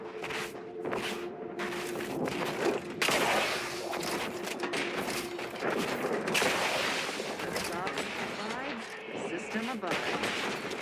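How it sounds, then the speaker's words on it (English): Mortar and gunfire barrage in The Outer Worlds 2, dense booming blasts and crackling shots rolling continuously across the scene, with voices and footsteps mixed into the chaos. "Mortar fire! Move!"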